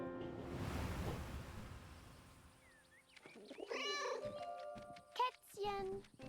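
A cat in the video game 11-11 Memories Retold gives several short meows and chirps near the end, after a stretch of soft ambient game sound, with a voice speaking at times.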